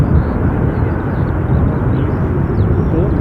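A Ryanair training aircraft at Dublin airport produces a loud, steady broadband jet roar heard from the ground, continuous for a few seconds with no clear speech over it.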